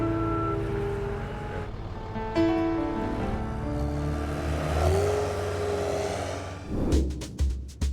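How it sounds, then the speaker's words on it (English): Bobcat loader engine running nearby, a steady rumbling drone that rises and falls with throttle changes, ending in a few sharp clunks and knocks. "That's my oldest son driving the Bobcat."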